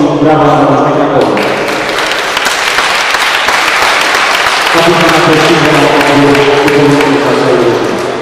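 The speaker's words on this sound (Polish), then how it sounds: "wszystkich brawa za drużynę Krakowi" Sustained loud crowd applause at a tournament award ceremony honouring the winning team, steady clapping filling the whole stretch, with an announcer's voice over it at the start and end.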